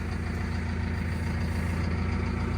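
A Massey Ferguson tractor engine runs in a steady, even low drone close by, with no pauses or changes in pitch.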